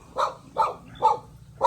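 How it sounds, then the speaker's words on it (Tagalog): A dog barks four times in an even rhythm, each bark short and moderately close, with no talk over it and quiet gaps between. "Aso pambira yan."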